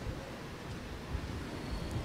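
Wind blows outdoors during a street religious procession in Caltanissetta, Sicily, a steady low rumble buffeting the microphone without speech.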